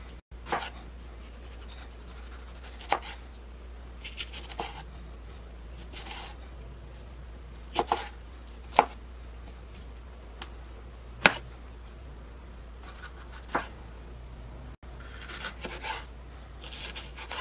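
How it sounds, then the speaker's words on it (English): A knife cuts through jalapenos on a cutting board, sharp isolated chops and scrapes spaced unevenly over a low steady hum, some louder than others, with no talking. "So I'm cutting my jalapenos like this so I won't have to fight with any seeds."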